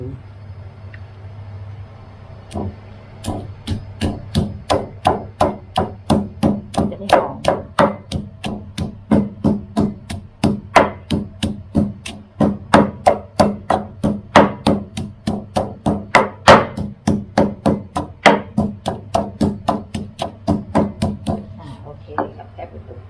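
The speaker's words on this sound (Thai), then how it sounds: "โขกรากชีก่อนค่ะรากผักชี" Steady rhythmic pounding of coriander roots, a pestle striking a mortar about two to three times per second, close and loud, continuing for over twenty seconds.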